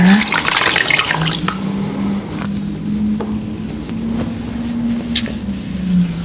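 Water running and trickling as a towelette soaks in it during a skincare routine, a close, steady splashy flow with a few small drips, no voice.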